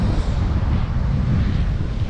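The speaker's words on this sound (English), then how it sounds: "Whew, that wind was crazy." Strong wind blows in off the water at Bare Island, buffeting the microphone with a loud, continuous low rumble for a couple of seconds, with nobody speaking.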